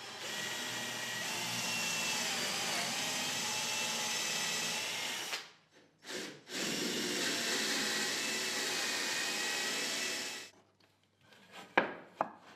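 A power drill bores angled holes into wood, a long steady whine of roughly five seconds, a short break with a couple of brief bursts, another long run, then a few scattered knocks and clatters, with no talk.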